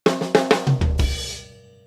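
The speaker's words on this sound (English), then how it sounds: "I go into 3/4 multiple times on multiple fills" A drum kit plays a short fill in 3/4 time during a song bridge, with three quick snare or high-tom hits followed by lower tom strikes and a crash cymbal that rings out and fades, loud and close.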